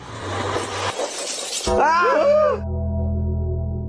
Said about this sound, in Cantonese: 係咪你打爛我部電視機？